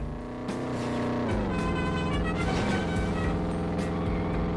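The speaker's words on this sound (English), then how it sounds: "this General Lee with an inexplicable Subaru flat 4 engine sound" A General Lee car mod in Midtown Madness fitted with a Subaru flat-four engine sound, a steady droning engine hum whose pitch drops and then climbs slightly as it revs, heard alone throughout.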